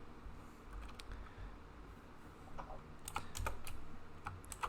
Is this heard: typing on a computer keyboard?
yes